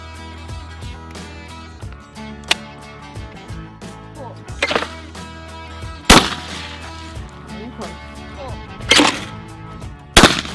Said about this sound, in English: I'm gonna be shooting trap and skeet